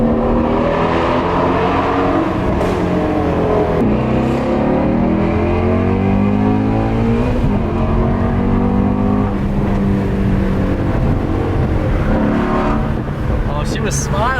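A Ford Mustang engine revs and pulls away, a loud, continuous rising-and-falling exhaust note that runs the whole time, with people talking over it.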